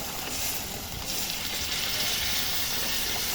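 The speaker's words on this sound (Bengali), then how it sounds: "আমি এবার মাংসের জলটা দিয়ে দিচ্ছি।" Water poured into a pan of frying chicken curry sets off a loud, steady hiss and sizzle that fills the whole moment without letup, close and continuous.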